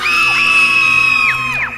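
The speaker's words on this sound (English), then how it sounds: "The student screamed in terror and ran." Several high, shrill screams overlap in a horror story, held steady for over a second before their pitch slides down and breaks off; loud and close, with no talking.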